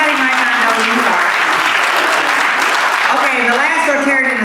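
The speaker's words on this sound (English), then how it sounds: "Round of applause for that." A room of club members at a Rotary meeting claps in a dense, sustained burst of applause, with a voice speaking over it as the clapping goes on.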